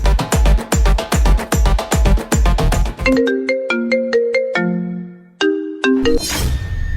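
A loud phone ringtone plays a bright, looping melody of electronic tones, preceded by a fast rhythmic tune and ending in a burst of noise.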